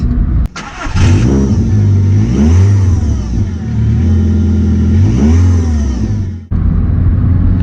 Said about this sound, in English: The exhaust is also noisy as well.